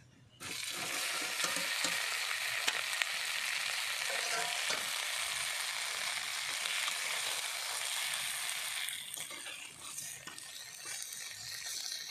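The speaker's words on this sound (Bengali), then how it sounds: "এগুলোকে তেলে ভেজে নেব" Taro leaf rolls dropped into hot oil burst into a loud, dense, hissing sizzle that holds steady for several seconds, then eases into softer crackling with light clicks as they keep frying.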